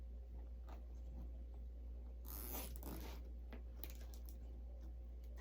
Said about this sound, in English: I'm zip tying this together.